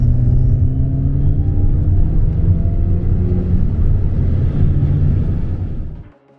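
A Hyundai Elantra N with a JB4 tune accelerates hard in third gear, its engine a loud, steady, rising rumble heard from inside the car before fading out at the end.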